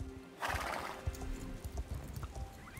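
Hooves clip-clop steadily on the ground while a horse gives a loud whinny in the game Star Stable Online, with outdoor game ambience around them and no talking.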